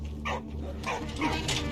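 A few separate barks and yips from the dog in the Great War game Valiant Hearts ring out at close range, spaced apart over a steady low background hum.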